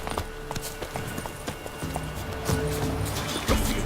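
Hoofbeats of the horse Roach galloping in the video game The Witcher 3, a steady clip-clop rhythm of fairly close hooves over continuous game ambience, with a brief voice.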